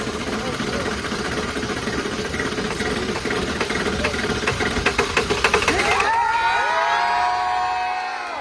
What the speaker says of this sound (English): the first ever Ford F-250 to run off of plastic waste right here in Chicago